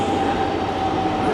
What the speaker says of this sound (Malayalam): ഈ വരുന്നത് റാംവാഡിയിലേക്ക് പോകുന്ന ബ്ലൂ ലൈൻ മെട്രോ ആണ്